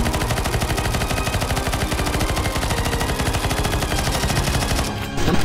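Rapid, continuous automatic gunfire in a Counter-Strike zombie escape match, dense overlapping shots rattling without pause for about five seconds before briefly dropping off and resuming.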